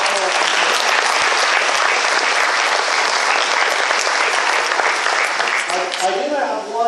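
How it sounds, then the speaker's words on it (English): Loud, dense applause fills an awards ceremony for the 2023 AHS Distinguished Goldbugs, sustained evenly for several seconds before tapering slightly at the end, with a voice briefly emerging near the close. "let's give a round of applause again to all these recipients"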